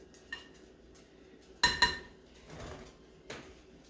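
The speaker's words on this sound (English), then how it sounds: "Mix it up really good." Cake batter mixed in a bowl after baking soda goes in: a few sharp clinks of a utensil against the bowl, including a quick double knock, then soft scraping, close and quiet.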